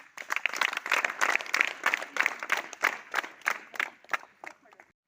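A group of students in a classroom claps rhythmically in quick bursts, loud and close, with a few voices mixed in.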